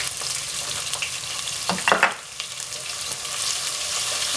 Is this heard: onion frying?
yes